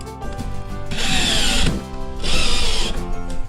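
A power drill drives a screw into a wooden floor joist while wooden floorboards are laid, heard as two loud, sustained whirring bursts separated by a short pause, close by with no talking.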